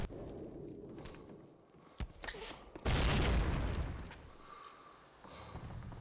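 A cooked grenade detonates in Call of Duty: United Offensive during a competitive match, one loud, close boom with a rumbling tail, preceded by quieter footsteps and small sounds.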